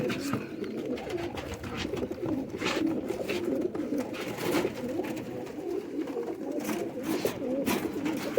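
Pigeons sold as high-grade birds coo in a dense, continuous murmur throughout, many birds close by with soft overlapping throaty calls and occasional flutters, no speech.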